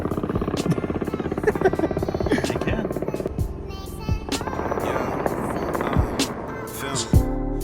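A helicopter flies close and steady, its droning rotor buzz filling the scene while a voice talks briefly over it.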